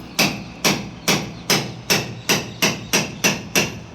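A hammer striking to break apart the top of a window frame during repair work: nine sharp, loud, closely spaced blows in an even rhythm, each ringing briefly before the next.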